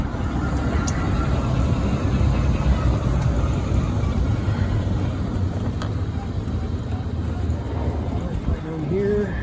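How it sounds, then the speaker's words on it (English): A custom four-seat GEM electric car drives up a street, giving a steady broadband rumble of tires and wind that holds level throughout, with no engine roar. "So I'll take it for a quick rip up the street here and just show you how well it drives."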